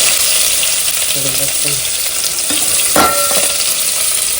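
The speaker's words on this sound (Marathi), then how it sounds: "ओके कांदा लसूण कढीपत्ता आणि तेजपत्ता धावाला आणि आता ही फोडणी छान परतवून घ्यायची ना" Chopped onion, garlic, curry leaves and bay leaf fry in hot oil for a tempering, giving a loud, steady sizzle throughout with a spoon clanking and scraping the pan once or twice near the end.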